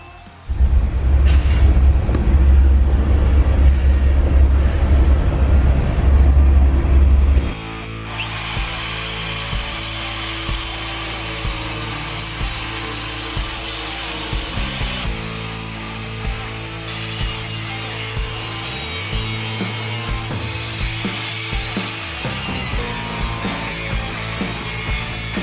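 A power tool cuts out a section of a Ford F100 unibody truck frame: a loud, sustained grinding roar for several seconds, then a steady harsher cutting whine that continues close by without talk.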